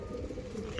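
Pigeons in a loft coo softly and steadily, a low, faint burbling close by with no talk over it.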